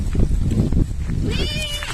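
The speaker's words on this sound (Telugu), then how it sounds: "పంది కాదు, మేకలు." A goat bleats briefly near the end, a wavering cry over outdoor rustling and handling noise close by in a forest where people gather jamun fruit.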